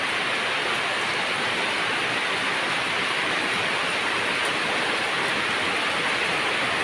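Heavy rain pours over a remote village courtyard shaded by mango trees, a dense, loud, unbroken hiss that stays steady throughout with no voices.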